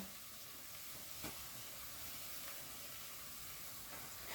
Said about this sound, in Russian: Дальше я сюда аккуратненько высыпаю морковь.